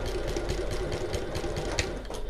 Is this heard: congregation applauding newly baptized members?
no